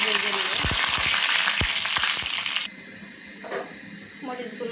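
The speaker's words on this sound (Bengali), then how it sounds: "এখন আমি রসুন, পেঁয়াজ আর মরিচগুলো ভেজে নেব।" Chillies fry in hot oil alongside garlic and onion, a loud dense sizzle with crackling pops that cuts off abruptly midway, leaving quieter background with faint clatter.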